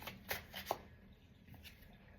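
Tarot cards handled and shuffled, a few soft, close papery swishes and light taps that quickly fade into near silence.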